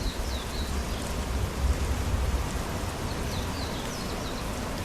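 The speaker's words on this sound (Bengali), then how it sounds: "বৃষ্টি হয়েই চলেছে কন্টিনিউ" Steady rain falling over a village near the India-China border at Zemithang, an even wash of noise with a few birds chirping faintly now and then; no talk.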